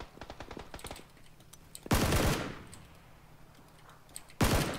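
Gunfire in an online shooter video game: a quick burst of sharp distant shots, then two loud close bursts of rapid fire separated by a quieter gap.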